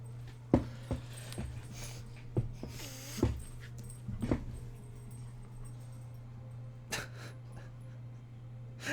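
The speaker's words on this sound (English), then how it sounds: "My dog so badly wants me to play with the squeaky toy with her, and she's just like begging me." A pet dog whines and whimpers in short, scattered bursts, begging for play with a squeaky toy, over a steady low hum in an indoor room.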